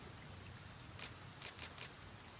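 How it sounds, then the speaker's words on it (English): Rain in the survival video game The Flame in the Flood: a steady, quiet hiss of falling rain with a few brief, slightly louder patters. "to try and get out of this rain"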